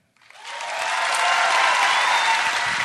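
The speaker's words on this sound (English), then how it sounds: "Clap if you think Matt's going to be a good dad." Live podcast audience at San Diego Comic-Con breaking into applause, swelling quickly from silence into a broad, sustained roar of clapping from a large crowd.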